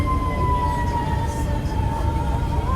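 A fire engine siren wails nearby on a road trip through Canada, its steady high tone drifting slightly in pitch as it passes over low traffic rumble.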